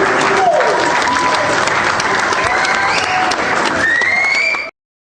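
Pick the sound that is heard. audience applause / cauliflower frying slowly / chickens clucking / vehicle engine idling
audience applause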